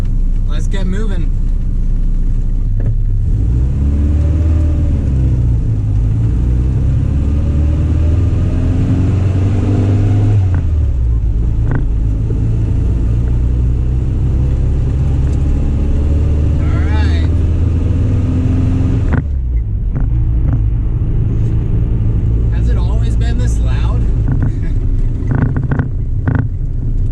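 A 1978 Triumph Spitfire engine pulls away and drives off, a steady low rumble with shifting revs and wind buffeting, a pause in the drone near the twentieth second, and people talking over it.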